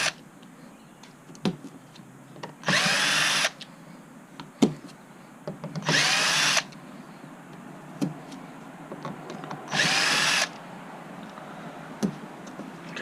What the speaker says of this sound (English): So there's the 4 outside screws that need to be removed.